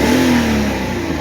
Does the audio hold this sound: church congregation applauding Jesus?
no